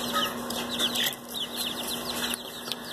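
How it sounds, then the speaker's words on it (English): Several hens cluck and chatter nearby in quick, overlapping bursts, with a steady low hum underneath. "Got some beautiful chickens here."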